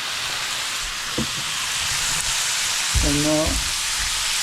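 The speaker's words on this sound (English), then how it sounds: "So now I'm going to add the soy sauce" Soy sauce poured into stir-fried tofu in a hot pan, raising a steady loud sizzle that swells briefly near the end, with a short spoken phrase partway through.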